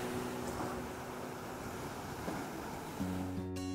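Ocean waves wash steadily against an Indonesian coastline as a continuous broad surf rush, with a brief low engine-like hum toward the end.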